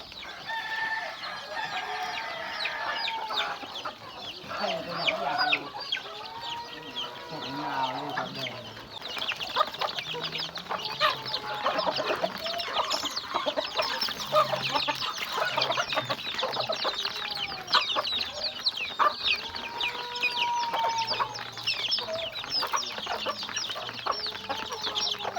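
Farm chickens kept by a family cluck and squawk continuously, with a rooster crowing, many birds close and busy over a lively yard, with a voice speaking faintly in the background.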